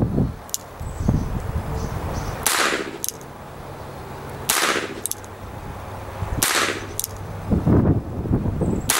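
An 1861 Sharps four-shot derringer fired outdoors, three sharp, loud gunshots spaced about two seconds apart, each with a short ringing tail and light rustling between shots.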